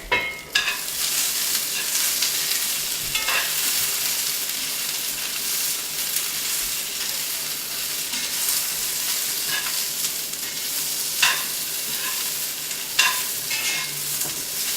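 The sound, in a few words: stirring frying food in a pan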